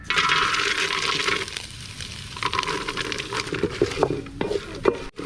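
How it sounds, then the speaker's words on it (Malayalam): Grated coconut being dry-roasted and stirred in a pan for a pasta payasam, giving a steady scraping, rustling sizzle with irregular spatula knocks toward the end, close and moderately loud, no voices. "തേങ്ങ ഒന്ന് വറുത്തെടുക്കണം"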